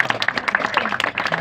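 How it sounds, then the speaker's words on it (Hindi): A brief burst of audience applause and clapping for a sister at a religious gathering in Ghaziabad, dense and steady for just over a second. "एक बार जोरदार तालियां"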